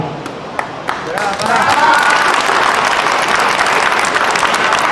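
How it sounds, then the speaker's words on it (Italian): An audience at an International Women's Day event at an officers' club breaks into loud applause for the presenter, swelling after a brief voice and a few scattered claps at the start. "Un applauso a Francesca"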